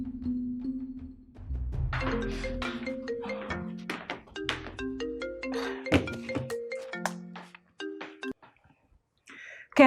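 Electronic phone ringtone chiming as an incoming call arrives, a bright melodic tone pattern repeating over about ten seconds, fairly loud and alone, with a brief thump near the end.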